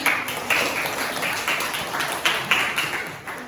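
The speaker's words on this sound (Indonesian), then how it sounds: "tepuk tangan dulu buat kelompok 2" A classroom group claps for a student group after its presentation, a moderately quiet patter of many hands with a few sharper, louder bursts spread through the few seconds.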